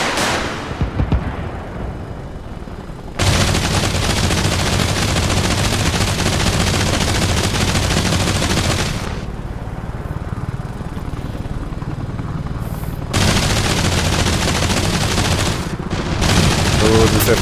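Rapid bursts of helicopter hardpoint weapons fire in Arma Reforger, loud sustained automatic volleys of several seconds each separated by short pauses, with rotor and engine noise running underneath.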